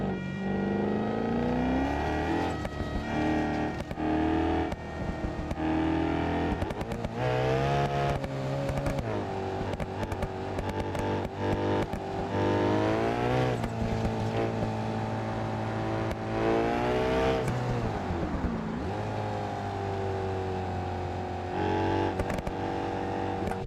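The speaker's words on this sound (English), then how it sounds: "Like, this engine is loud." A loud car engine in a driving video game played on a steering wheel, revving and shifting repeatedly with rising and falling pitch, continuous and prominent throughout.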